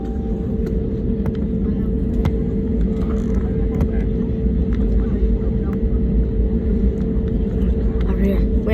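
A Bamboo Airways Airbus A320neo taking off from Cam Ranh, heard as a steady, loud engine roar and rumble from inside the cabin, with a constant tonal whine throughout.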